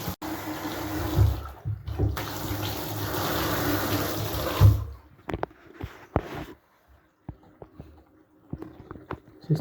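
Hot water runs from an apartment tap after a meter valve replacement, a steady loud rush for several seconds that then stops, followed by scattered drips and sharp clicks.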